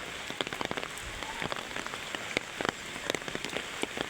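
Steady rain pattering on surfaces in Teknaf, Bangladesh, a dense, continuous patter of drops close by and fairly loud, with no voices.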